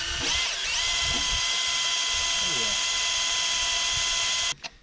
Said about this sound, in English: That way you can get your drill down in there.